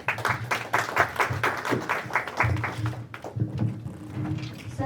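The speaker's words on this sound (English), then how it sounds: "please give a big round of applause for Kirpa Singh" A modest audience at a Punjabi declamation contest claps for the next speaker: a few distinct, rhythmic hand claps in quick succession, thinning out and fading after a few seconds into quiet room noise.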